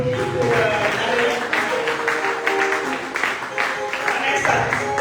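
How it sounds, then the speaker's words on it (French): Audience at a gathering of future doctors claps together in a sustained burst of applause, moderately loud and continuous, with voices and murmuring mixed underneath throughout. "on applaudit pour"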